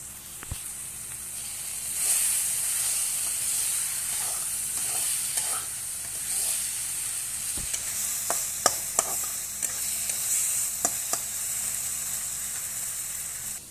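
Spinach fish curry frying in a pan after chili powder is added, a steady sizzle and hiss with scattered stirring scrapes and clicks, close by.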